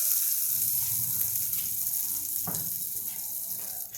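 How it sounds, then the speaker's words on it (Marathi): Cumin and asafoetida tempering crackling in hot oil, a loud continuous hiss and sizzle throughout with a brief clink, no voices. "आता ही फोडणी आपण याच्यावर फुटून देऊया"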